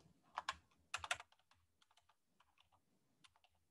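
Code being typed on a computer keyboard: two loud bursts of rapid key clatter followed by sparser, softer taps, close and alone with no talking.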